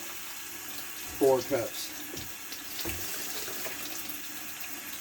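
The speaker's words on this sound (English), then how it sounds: "But I'm going to rinse it one more time." Tap water runs into a sink as food is rinsed while cooking teriyaki, a faint steady stream with a few louder splashes and brief talk over it.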